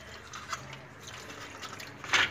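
Water dripping and splashing while parts coated with real carbon fibre are wet sanded, a few soft drips through the clip and a louder splash near the end, quiet and close.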